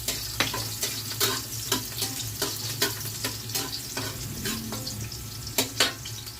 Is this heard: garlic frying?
yes